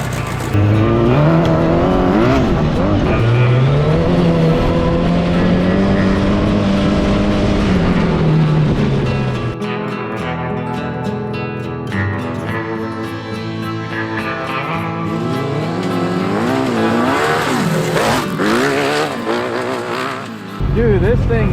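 A mini trophy buggy on its first run revs and whines through rising and falling engine pitches, loud and close, with spells of hard acceleration and brief tire noise, while voices talk over it.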